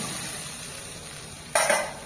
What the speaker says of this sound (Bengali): এর মধ্যে দিয়ে দেবো ভেজে রাখা আলুগুলো